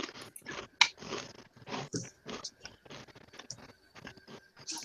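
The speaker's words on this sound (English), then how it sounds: "please tell me my crunching gets annoying" Crunching and chewing close to the microphone while someone eats, in a run of short irregular bites at moderate loudness, with brief quiet gaps between them.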